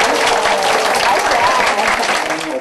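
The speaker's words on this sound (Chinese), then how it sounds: "你若听了有介意，予我掌声，免客气啊" Steady applause from an audience at a Kaohsiung County school event welcoming visiting overseas Chinese school principals, continuous and fairly loud clapping filling the whole stretch with murmured voices mixed in.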